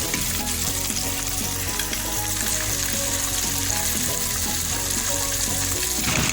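Rahoo fish sizzles steadily in hot oil in a pan, a dense continuous crackle and hiss close up, with faint clinks of stirring and no talking.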